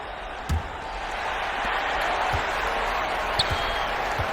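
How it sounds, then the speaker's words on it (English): A broad wash of crowd applause and cheering at a basketball arena in an arcade video game fills the space, with a few scattered thumps and bounces rising above it. "Fans, please give a big round of applause for your youth dance squad."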